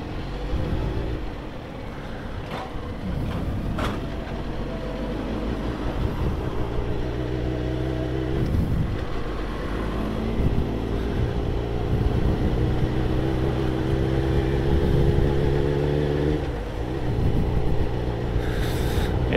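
Yamaha XJ6 motorcycle engine roaring loudly and steadily while riding at speed, a dense continuous drone with rising and falling revs and heavy wind rush.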